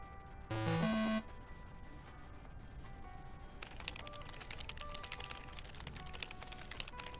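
Typing on a computer keyboard in the video game Lake: a brief rising chime opens, then soft, rapid key clicks run steadily under light background music.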